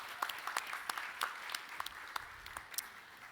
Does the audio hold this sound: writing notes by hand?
no